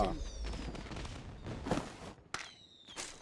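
Bursts of fireworks going off in a multiplayer video game birthday celebration match, a few sharp pops and crackles at 1.7 and 2.3 seconds amid game noise and a speaking voice.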